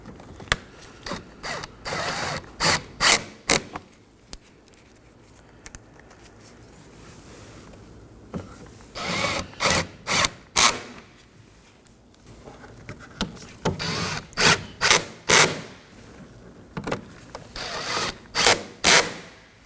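A hand ratchet clicks in quick bursts while snugging four T30 Torx screws on the upper cowl of a 2014-2023 Ford Transit Connect 2.5L, loud rapid pawl ratcheting repeated in several groups with quiet pauses between.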